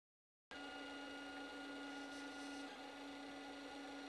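A DIY syringe-extruder 3D printer prints cookie dough, starting abruptly after a short silence with a steady, faint motor whine and hum that continues alone.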